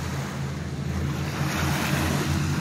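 Surf from Lake Michigan washes steadily onto the beach at Grand Haven's North Shore, a continuous wash of waves with wind buffeting the microphone and no one talking.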